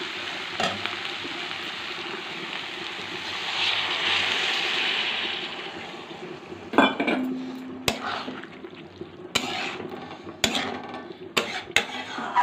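Water poured into a pot of cabbage curry cooking over a medium flame hits the hot pan with a sustained hissing sizzle that fades, followed by sharp clinks of utensils against the pot.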